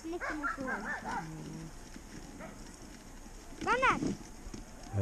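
Husky sled dogs in Lapland let out one short, rising-and-falling yelp midway through. A person talks briefly beforehand, over a constant outdoor rumble.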